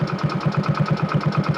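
A new motorcycle's engine idles close by with a loud, even chugging beat, about six firing pulses per second, steady and alone throughout.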